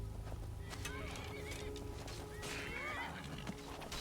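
A horse in the Skyrim video game whinnies after being struck, with hoof clip-clops and game ambience, heard faintly at a distance beneath low background sounds.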